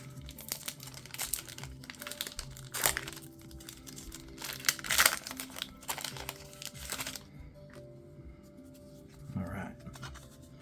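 A Magic the Gathering Final Fantasy booster pack wrapper is torn open by hand, close-up crinkling and sharp crackling plastic in bursts, then a quieter stretch with a faint shuffle at the end.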